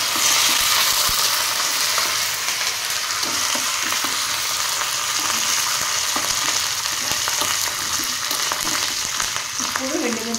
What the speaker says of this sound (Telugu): ఇప్పుడు ఎండుమిరపకాయలు వేద్దాము. మంచిగా ఇట్లా బాగా ఫ్రై చేసిన తర్వాత